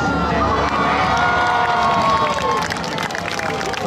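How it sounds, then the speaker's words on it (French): A crowd at a medieval horse battle show in Cravant cheers and shouts loudly and continuously, with an announcer's voice carrying over the roar of the spectators. "Acclamations pour le Seigneur d'Albi"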